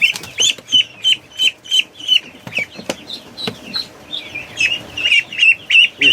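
Repeated sharp duck calls in quick succession, loud and close, with a busy, agitated rhythm of quacking squawks.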